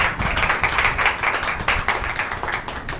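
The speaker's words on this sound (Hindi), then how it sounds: "आइए हम तालियों के साथ में इनका स्वागत करेंगे" A church congregation at a Thursday service claps in welcome, brisk, dense clapping close by that continues steadily throughout.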